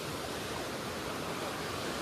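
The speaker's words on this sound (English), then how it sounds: "we've now stopped at this stream and look how clear the water is." A clear stream in Slovenia, stopped beside during a trip, flows in a steady, dense rush of water noise that stays even and close for the full two seconds with no voices.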